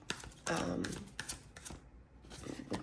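Tarot cards riffle and shuffle in quick rustling bursts, close by, with a brief quiet gap.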